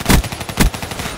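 Automatic gunfire in Call of Duty Black Ops 3, two loud close bursts half a second apart, with rapid shots rattling between them.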